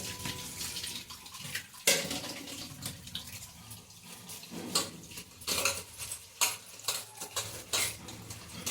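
Fenugreek leaves being washed by hand in water in a metal vessel, with repeated splashing, sloshing and clinking bursts in an uneven rhythm, close and fairly loud, with no talk.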